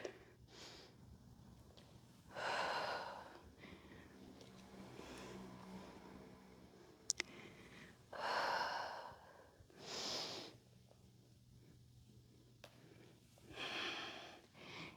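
Slow yoga breathing, with deep inhalations and exhalations that come as distinct, airy bursts every couple of seconds against a quiet room, with no talking.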